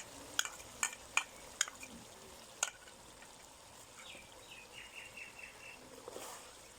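Finely chopped ginger and garlic sizzle in oil for chicken karahi, giving a soft steady frying hiss under a few sharp clicks of stirring near the start, with faint birdsong in the background.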